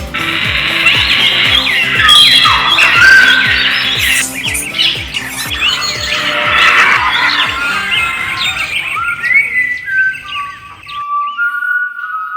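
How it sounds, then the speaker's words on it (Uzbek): Black cockatoos kept at a home aviary in Namangan give loud, harsh squawks and screeching calls in overlapping bursts, dense in the first half, then thinning to a few sharper whistled cries near the end. "Bu qora kakadu."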